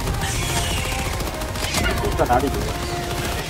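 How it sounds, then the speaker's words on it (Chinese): Rapid gunfire from a high fire-rate weapon in Helldivers 2, a continuous dense rattle of shots sustained throughout, with a person briefly talking over it. "知道我在射什么，反正一千多的射速随便射"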